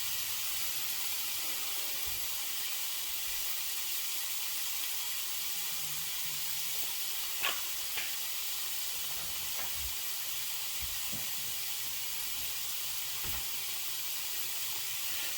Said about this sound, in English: We're just gonna saute these up real quick